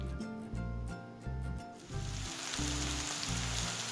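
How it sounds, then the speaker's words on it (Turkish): Sliced onions fry in oil in a pan on a stovetop, a hissing sizzle that swells and grows denser halfway through, heard over a low, rhythmic musical background. "Bu şekilde şimdi ben bunları ocağa alıp pembeleşinceye kadar kavurmaya alacağım arkadaşlar."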